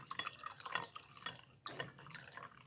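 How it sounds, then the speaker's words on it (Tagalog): Water poured into a glass of calamansi juice sweetened with honey, a short splashing, dripping pour in several close bursts, with no talk. "Lagyan natin ng tubig."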